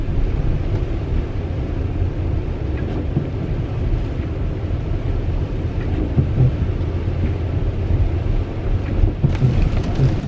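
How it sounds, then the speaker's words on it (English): Steady heavy rain pours down in a constant wash of noise, with low rumbling underneath and no voices. "But it's raining hard enough now."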